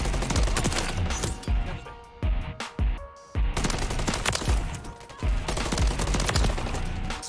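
Rapid bursts of automatic gunfire in the video game Modern Warfare 3, loud and dense, with brief pauses between volleys and sharp single shots mixed in, no talking over it.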